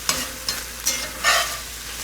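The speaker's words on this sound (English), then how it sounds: "You just want to cook it until that liquid is mostly evaporated in there and cooked down." Pork for Asian lettuce wraps cooking down in a pan, a continuous close sizzle with several rhythmic stirring scrapes, one longer and louder burst near the middle.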